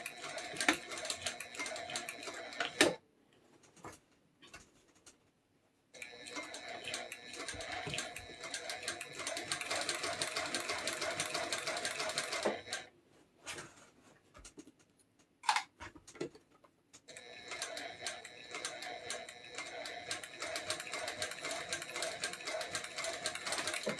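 Sewing machine stitching a rucksack seam at a half-inch allowance, running in long steady bursts of rapid mechanical ticking, broken by a few short pauses and sharp clicks.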